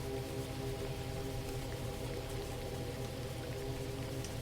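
Rain falls at night in a soft, unbroken wash that stays constant and low in level throughout, with no voices or other distinct sounds.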